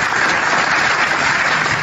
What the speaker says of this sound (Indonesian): Saya harus tepuk tangan dulu.